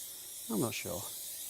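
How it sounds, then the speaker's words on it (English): A spray bottle of screen cleaning liquid gives a short, breathy double spritz close by, followed by quiet room tone. "we're going to spray it on"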